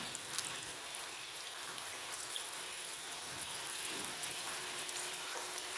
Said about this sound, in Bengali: এই আলুর পাঁপড় ভাজা হচ্ছে